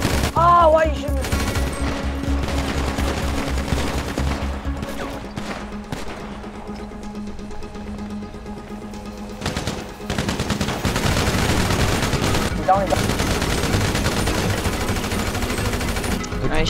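Gunfire in the GTA 5 video game during an Area 51 convoy roleplay raid: rapid, sustained bursts of shots rattle continuously for the whole stretch, loud and dense, with layered game sounds and occasional voices underneath.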